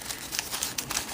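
A coffee-filter paper sheet printed with instructions is handled on the lid of a CT-1 Firewater survival kit, giving soft, close crinkling with a few sharper rustles, heard alone.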